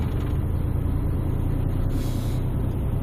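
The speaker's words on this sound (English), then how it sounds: "Jake brake, is a good thing to use." An HGV truck's engine brake holds a steady, loud, low rumble throughout, with a brief burst of air hiss about two-thirds of the way through.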